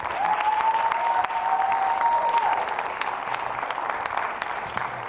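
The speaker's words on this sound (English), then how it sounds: "Let's give a round of applause for all of our performers tonight." A crowd applauds the performers at a school percussion recital, a dense wash of clapping that holds at the same level throughout, with a faint high whistle near the start.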